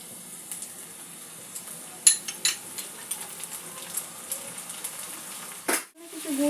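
Onion frying in a pan for a pointed gourd and prawn curry, a soft steady sizzle with scattered clinks of a spoon against the pan and a louder burst near the end as ginger garlic paste goes in.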